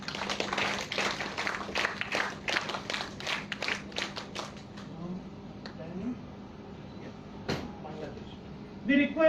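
An audience claps for the Maldives delegation at a scouts and guides ceremony, a brisk round of claps lasting a few seconds that fades into room noise and faint voices.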